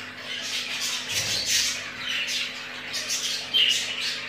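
Budgerigar chick squawking repeatedly while being hand-fed with a feeding syringe tip, rapid harsh high-pitched calls at close range over a steady background hum.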